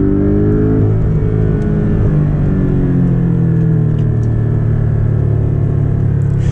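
A Porsche 718 Boxster GTS engine revs with a deep, throaty rumble, its pitch rising and falling steadily, close and loud throughout.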